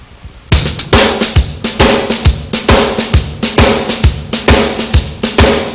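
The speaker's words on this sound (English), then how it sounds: "That's the shuffle, one version." A drum kit plays a shuffle beat with triplet feel, loud and close, its steady repeating hits of kick, snare and cymbal continuing alone for several bars.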